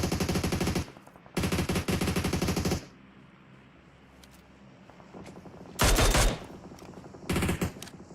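Automatic gunfire in a video game tournament match comes in loud sustained bursts separated by quieter gaps, with a couple of shorter volleys near the end and no voices over the shooting.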